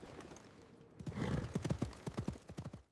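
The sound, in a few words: horse hooves galloping as rider rides off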